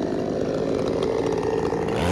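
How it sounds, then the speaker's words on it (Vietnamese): A chainsaw cuts low through the base of a roadside tree trunk amid power lines, running loud and steady at close range throughout with no pauses. "Bên dưới là cũng đã cưa sát cái phần gốc rồi cả nhà."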